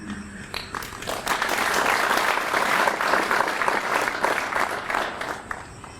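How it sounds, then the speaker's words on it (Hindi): A crowd at a spiritual gathering of sannyasis and devotees claps together, the dense applause rising quickly, holding full for a few seconds and then easing off slightly at the close. "ताली तो ऐसे बजा रहे जैसे तुम सीखी थी।"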